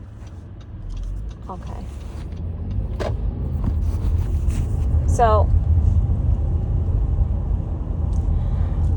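A car idles and then pulls away. A low engine rumble rises and holds steady, a brief squeaky mechanical whine cuts in partway through, and a person speaks briefly near the start.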